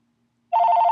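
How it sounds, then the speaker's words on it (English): A phone starts ringing abruptly after a moment of silence, a steady trilling electronic ring, fairly loud and close. "why does the phone keep ringing?"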